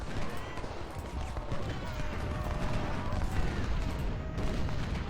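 Musket volleys in the Ultimate General: Civil War video game, a dense continuous crackle of rifle fire and battle noise that stays loud throughout with no clear pauses.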